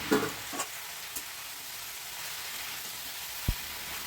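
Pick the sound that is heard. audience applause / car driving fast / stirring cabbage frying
stirring cabbage frying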